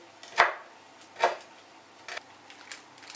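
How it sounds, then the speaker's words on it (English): A knife finely slicing fresh mint on a cutting board, with a few separate taps of the blade on the board, two firmer strokes followed by lighter ones, close and quiet. "And now finely slice 1 or 2 tablespoons of fresh mint."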